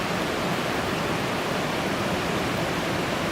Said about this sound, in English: I'm attracted to this line of dark water as it hits the rapids